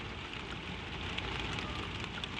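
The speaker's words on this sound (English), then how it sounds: "the only sounds are the rain on the roof, far up" Rain falls steadily on a roof, a soft, even hiss of dense patter with faint ticks, quiet and distant, no voices.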